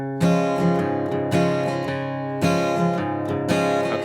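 An acoustic guitar strums a country-style rhythm on a C/G slash chord, steady bass-and-strum pattern repeating in even bursts, close and clear with no talking.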